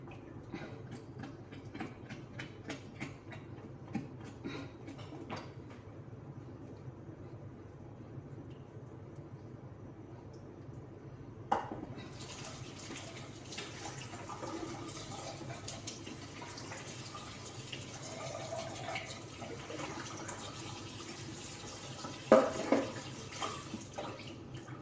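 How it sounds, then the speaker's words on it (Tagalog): Running water pours steadily through a strainer as vegetables are drained in a home kitchen, with a quiet start, then a louder rushing splash and a few clinks near the end. "Remove natin tong tubig guys."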